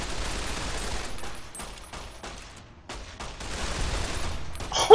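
Gunfire from a weapon in the video game Fallout: New Vegas, loud rapid bursts of shots broken by brief pauses, ending in a sharp final blast.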